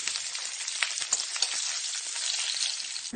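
Garlic and curry leaves fry in hot refined oil in a kadai, a continuous crackling sizzle with small pops scattered through it, close and steady, no voices.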